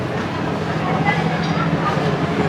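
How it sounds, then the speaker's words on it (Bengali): The Jahanabad Express pulls out of Singia Junction bound for Dhaka, a steady low rumble of moving rail cars heard from nearby, with some faint voices in the background. "জাহানাবাদ এক্সপ্রেস ট্রেনটি সিঙ্গিয়া জংশন থেকে ছেড়ে দিল তার গন্তব্য ঢাকার উদ্দেশ্যে"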